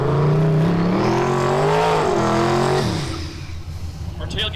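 Square-body Chevy trucks drag racing at a street-style drag event, engines roaring loud and close with a rising, shifting pitch for about three seconds before fading into quieter crowd and track ambience.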